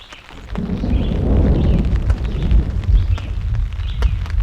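Deep thunder booms and rolls through a mountain thunderstorm at a campsite around 6,000 feet, a loud, sustained low rumble that swells and lingers for several seconds with no talking.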